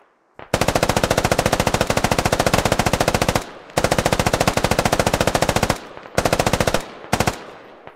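Sustained machine-gun fire in a military shooter game, long rapid bursts of loud, evenly spaced shots broken by brief gaps, then two shorter bursts near the end.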